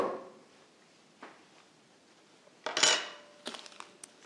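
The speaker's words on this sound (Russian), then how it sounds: "Берем вилку, берем ложку." Light metallic clinks and clatters of a fork and spoon being picked up, a few quick knocks followed by a brighter jangle and scattered taps, close by with no talking.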